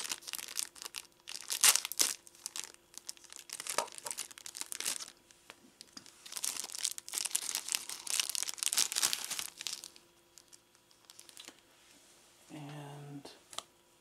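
Cardboard battery box packaging for a Fanhome R2-D2 model kit is cut and torn open, giving bursts of crinkling and tearing close by, with a voice speaking briefly near the end.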